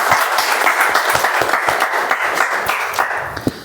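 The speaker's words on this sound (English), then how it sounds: "A huge round of applause for our Toastmaster of the day." An audience at a joint Toastmasters club meeting applauds the Toastmaster of the day with loud, continuous clapping. It is dense and steady throughout, with a few sharper individual claps standing out near the end.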